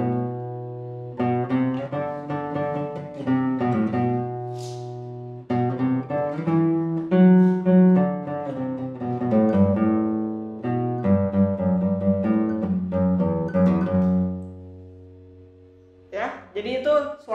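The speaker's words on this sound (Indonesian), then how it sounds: "Jadi itu suara yang dihasilkan di sound hole menggunakan tirando" Classical guitar played near the sound hole with a thumb tirando stroke, picking a passage from the Concierto de Aranjuez: clear plucked notes and ringing bass lines, close and fairly loud, followed at the end by a brief spoken voice.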